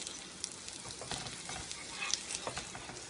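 Potato paratha frying in ghee on a hot pan, a steady close sizzle with soft crackling bursts and light stirring scrapes throughout, no voices.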